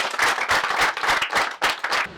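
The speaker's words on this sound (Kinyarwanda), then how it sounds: "Niho amashyi kuri." An audience claps at a women's network event in Burera, a quick burst of several rhythmic waves of applause from a small crowd, moderately close, with no talking over it.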